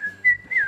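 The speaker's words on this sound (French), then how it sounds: "tu siffles très très bien" A man whistling a short, clear tune with two sustained, sliding notes, close and fairly loud, with no talking.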